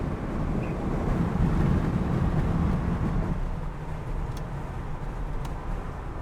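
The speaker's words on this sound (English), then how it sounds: "Let's open up our Panoramic Roof. So yeah, of course you're gonna hear a little bit of wind." Wind rushing through the open panoramic roof of a 2021 Ford F150 Hybrid on the move, a steady loud broadband roar that eases slightly toward the end, with no talk.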